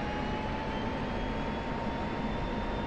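Jet engine in DCS running at steady power, a loud continuous roar with a thin whining tone that climbs slightly in pitch as the throttle is pushed up, no talking.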